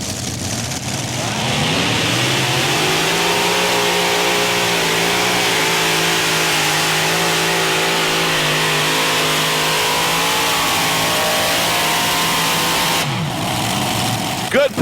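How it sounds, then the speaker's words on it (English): A modified pulling tractor roars through a long, loud run at a 1996 tractor pull in Bowling Green, its engine note climbing and holding high for over ten seconds, with an announcer's voice over the din. "Brian Piper, as the family tradition continues in modified tractor pulling."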